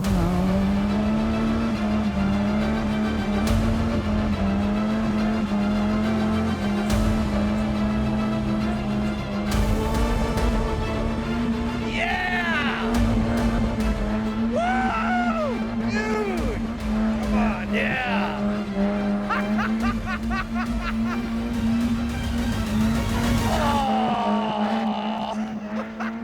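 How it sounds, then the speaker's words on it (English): Rear-wheel-drive sports car on duct-taped tires doing a burnout, engine revving hard and steadily under long, wavering tire squeals, loud and close, with people shouting and talking over it. "You put duct tape tires on rear-wheel drive sports car. Dude, let's do some burnouts."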